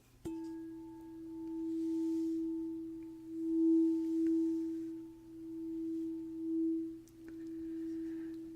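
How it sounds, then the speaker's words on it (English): A singing bowl struck once, its pure sustained tone ringing steadily and slowly swelling and fading, with a faint second strike near the end. "I'm going to start us off with a chime from a sound bowl"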